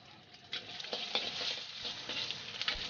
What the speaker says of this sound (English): She's put some oil into her wok and in goes an egg.